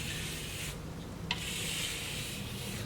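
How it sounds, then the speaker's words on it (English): Steel trowel edge drawn under light pressure across Venetian marmorino lime plaster on a wall, giving a soft, continuous scraping rasp in short close strokes with one small tap partway through. "all we're going to do is take our trowel on the edge"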